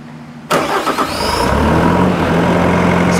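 A Bobcat engine cranks and catches after half a second of quiet, then settles into a steady, loud idle that holds close by for the rest of the clip.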